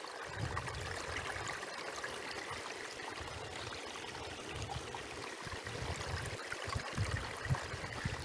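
A wilderness mountain stream near a cliff, its clear water flowing and trickling in a steady, soft babble that stays constant and fairly quiet from start to finish.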